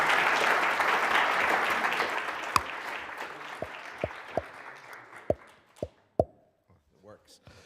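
Audience applause after a conference talk at Superweek 2023, dense clapping that thins out over several seconds into a few scattered, isolated claps near the end.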